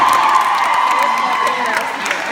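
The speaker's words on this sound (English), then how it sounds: "I love that you guys all cheer that" A convention audience at MinnCon 2016 cheers, whoops and applauds in a dense, loud, continuous roar from a large crowd filling the hall.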